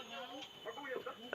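Chickens clucking outdoors, faint and irregular, with short clucks scattered through the sound and voices talking in the background.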